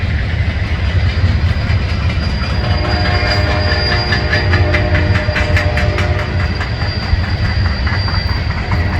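A train passes by a park, a loud continuous rumble of rolling railcars with rhythmic clacking wheels and some metallic squeal.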